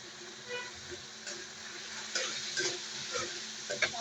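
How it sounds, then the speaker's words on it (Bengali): Spice paste with ground coriander, cumin and chopped green chilies frying in a home kitchen pan for a rohu fish and papaya curry, giving a steady soft sizzle with intermittent scraping stirs. "মশলাটা ভালোভাবে কষিয়ে নেব।"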